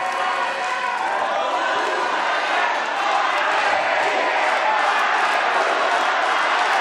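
Applause from the audience at a West Java governor and vice-governor candidate debate, offered to the four candidate pairs: dense, steady clapping that holds at an even level throughout.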